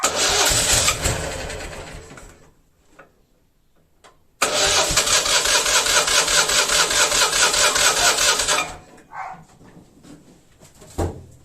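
A Citroën 2CV type A, slow to start after sitting a long time, is started by hand. It cranks roughly, goes quiet briefly, then fires and runs loudly and close for about four seconds before dying back to faint clatter.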